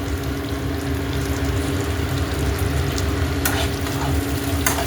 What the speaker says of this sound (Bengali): এবার এর মধ্যে দিয়ে দিলাম কুচো করে রাখা টমেটো।